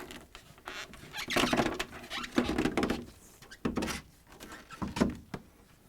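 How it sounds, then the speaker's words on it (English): An old rubber gasket is peeled and pulled off an LG/Kenmore refrigerator door in a series of irregular close scraping, rubbing and tugging bursts with short pauses between them. "continue pulling the gasket off the door"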